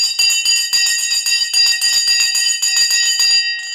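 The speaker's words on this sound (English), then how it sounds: "The bell has now gone and we are off and running." The stock market opening bell rings loudly and continuously in rapid metallic strikes, holding its sustained tone for several seconds before cutting off near the end, with no talk over it.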